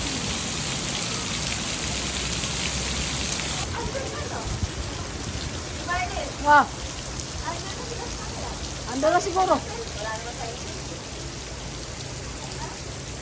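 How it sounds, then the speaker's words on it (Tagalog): Heavy rain pouring steadily during an outdoor trip, a dense continuous hiss with brief bursts of people talking over it. "nabutan kami ng malakas na ulan"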